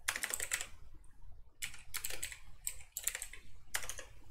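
Bursts of typing on a computer keyboard during C++ programming, clustered keystrokes in four quick runs separated by short pauses, close and fairly quiet with no talking.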